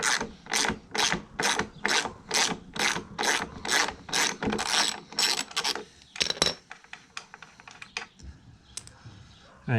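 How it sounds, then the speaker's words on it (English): A socket wrench ratchets on a push mower's 9/16 wheel nut: a steady run of quick, close clicking bursts in even rhythm, then looser, scattered clicks and rattles as the nut comes free. "this one needs a 9/16 socket or a wrench. You can get the nut off there with either one."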